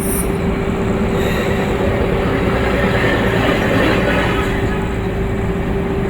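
A loud, sustained rumble of an LRT light rail train passing close overhead above Taft Avenue, with a steady metallic hum and rolling clatter.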